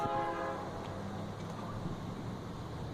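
Train horn sounding at a trackside railfanning spot, a steady held tone with stacked harmonics opening the moment and fading into a continuous low rail rumble that lasts throughout.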